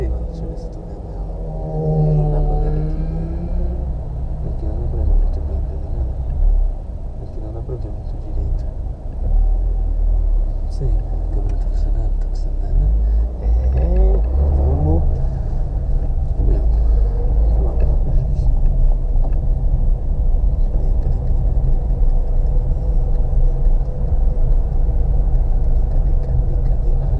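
A new small 1.0-litre car drives slowly through traffic and pulls in to park, its engine and road rumble steady and close while people talk over it at times.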